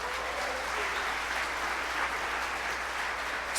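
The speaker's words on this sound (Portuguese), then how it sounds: "Aplauda o Senhor Jesus por isso." A church congregation applauds during a sermon, a soft wash of clapping that stays even and somewhat distant for a few seconds, with no talk over it.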